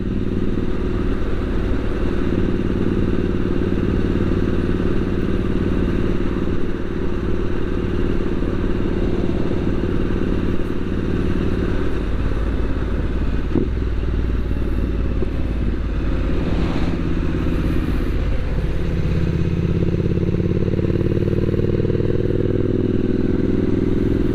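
A Triumph Street Scrambler 900 motorcycle ridden on a road, its engine droning loud and steady throughout with a few rises in revs and some clatter, close to the bike, with no voices.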